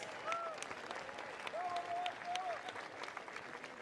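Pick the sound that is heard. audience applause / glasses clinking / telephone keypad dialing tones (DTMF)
audience applause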